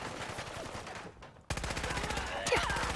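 SKS rifle fire in Fallout 4, modded combat weapon: rapid repeated shots in a dense burst, a brief lull near the middle, then a louder second volley of sharp reports.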